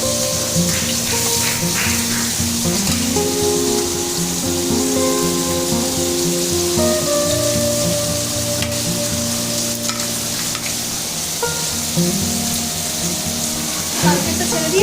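Bottle gourd frying in a pan in a home kitchen, with a steady sizzle and stirring scrapes running throughout, fairly loud and close, with no talk.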